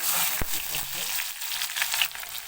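Chopped onions and green chillies hit hot oil in a pan for a Kerala vegetable thoran, giving a steady, close, bright sizzle with a brief crackle near the start that runs without pause.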